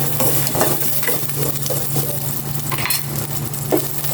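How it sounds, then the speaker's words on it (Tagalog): Ginger sautéing in olive oil in a pan, a steady close sizzle with occasional soft stirring scrapes, no talking. "Maglagay na ako ng olive oil. And igisa ko na po itong luya."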